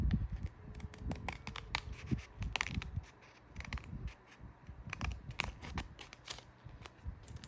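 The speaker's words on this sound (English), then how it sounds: "These are like the worst scissors to use" Scissors snip through paper in a quick, irregular series of close crisp cuts, mixed with rustling of the sheet.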